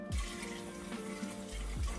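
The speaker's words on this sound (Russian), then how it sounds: "Затем переворачиваем и просто даем этой воде стечь." Rinsed glass jars turned upside down to drain, water trickling and splashing out of them into a sink in a steady run with a couple of brief gurgling bursts.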